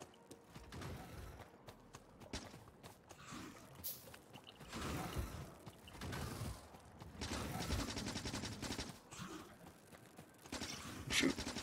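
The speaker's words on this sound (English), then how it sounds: "I'm trying to shoot the spitter, but I'm hitting nothing." Rapid gunfire in Factorio aimed at a spitter comes as dense, continuous bursts of quiet mechanical shots rattling on for the whole stretch, mixed with game noise and rising in intensity toward the end.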